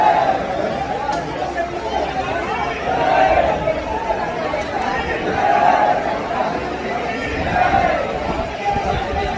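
A Saturday crowd of pilgrims at Hanumangarhi temple in Ayodhya fills the air with steady, close chatter and overlapping voices, swelling and easing in waves with no single speaker standing out.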